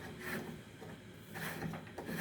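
The lid of a homemade woodworking dust level indicator is unscrewed, giving soft scraping and rubbing sounds in a few quiet bursts, close by in a calm room.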